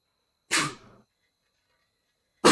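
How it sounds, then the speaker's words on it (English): One short, sharp human sneeze close by, then a long silence before another abrupt burst cuts in at the very end. "I need to sneeze"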